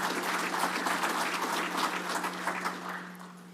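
Members of the audience at an electric cooperative's annual meeting give a sustained round of applause, dense even clapping that holds steady and then tapers slightly, with a low steady hum underneath.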